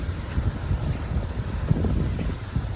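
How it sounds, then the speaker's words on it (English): Steady wind blowing across an open beach at North Truro on Cape Cod, a continuous low rumbling buffet on the microphone with surf-like roar, fairly loud and alone. "I wonder if you can hear me with the wind or not."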